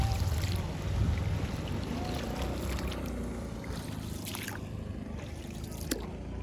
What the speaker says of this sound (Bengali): তো উনি নৌকাটা চালাচ্ছেন এখন